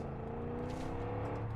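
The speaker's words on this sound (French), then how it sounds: "le son du jeu est aussi fort quand t'es dans une bagnole" A car engine in the video game Far Cry 5 gives a steady, loud droning whir with a held tonal hum, constant and unbroken.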